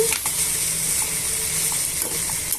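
Okra and tomato pieces fry in a pan with a steady close sizzle and a few soft stirring clinks, continuous and unbroken by speech.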